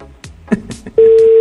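A telephone call rings out unanswered during a live Honduran TV morning-show vehicle raffle. A few faint dial clicks come first, then one loud, steady tone sets in and holds to the end.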